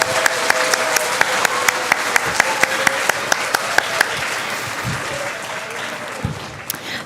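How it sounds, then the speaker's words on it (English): Steady audience applause for a sixth grade group at a school recognition assembly, fairly loud and continuous, with a few sharp individual claps standing out above the crowd. "Let's give them a round of applause."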